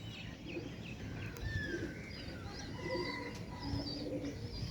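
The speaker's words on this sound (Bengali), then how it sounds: "কবুতরগুলো উড়িয়ে দিয়েছি ওই ওপরে অনেকগুলা" Soft pigeon coos and scattered chirps over a steady low outdoor rumble, several birds calling intermittently at moderate distance.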